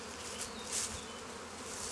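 Honey bees buzz steadily at a hive frame while a colony is merged, a dense close hum filling the whole stretch with small swells in intensity.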